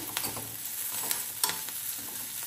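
Mixed vegetable palya frying in a pan, stirred with a few distinct scrapes and clinks over a constant soft sizzle, close and moderately loud.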